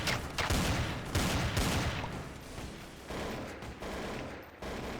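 Counter-Strike: Source gunfire erupts in rapid bursts of loud, close shots, dense at first and then coming in separated volleys over several seconds.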